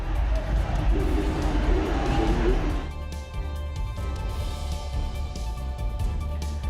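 A large crowd packed together at a Janmashtami gathering makes a dense, loud hubbub of many voices, with a constant rumbling wash of noise throughout.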